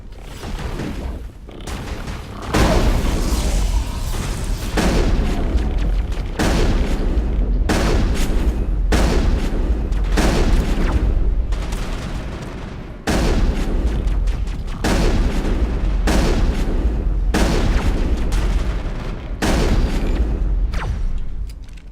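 Sniper gunfire in the Mass Effect video game during a fight on a Geth ship, with loud booming shots at irregular intervals over a dense, rumbling battle background.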